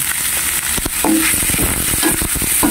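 French beans stir-frying in a hot pan, a steady loud sizzle with short scraping stirs breaking through near the middle and end.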